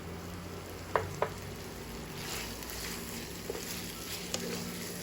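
Chicken filling with tomato sauce sizzles softly in a pan, a low steady frying hiss with a few sharp spoon taps against the pan's edge.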